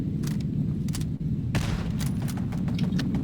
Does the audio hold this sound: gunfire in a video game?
yes